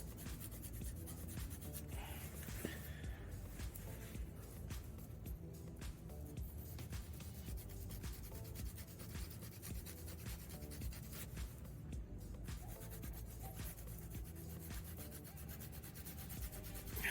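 Hardened filler on a fabricated metal part being sanded by hand, a faint, continuous gritty rubbing with steady back-and-forth scraping strokes, close up and without talk.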